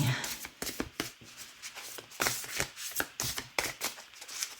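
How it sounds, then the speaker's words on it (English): Playing cards are shuffled repeatedly in a series of quick riffling and slapping bursts, close and fairly quiet, with soft speech at times between them. "Give it another couple shuffles till it feels ready"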